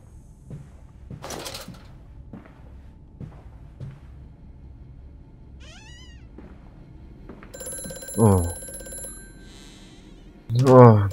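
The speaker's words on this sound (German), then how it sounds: "Oh, Telefon." Metallic telephone bell rings in bursts in the horror game Amnesia: A Machine for Pigs, sharp repeated trills rising over quiet dark ambience with scattered thuds and a few creaks.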